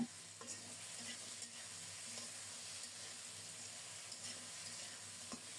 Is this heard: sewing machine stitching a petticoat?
no